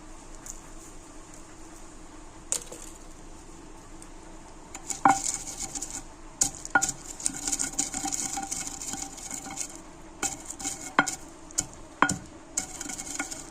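Peanuts and green chillies pounded in a mortar, with a steady series of sharp irregular knocks and clatters over a low background hiss, growing busier partway through.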